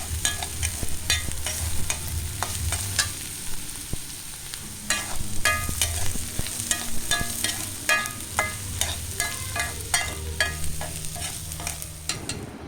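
Onions fry in a pan with ghee, ginger and garlic. The sizzle runs steadily throughout, and a spoon stirs and scrapes the pan in repeated clicking strokes.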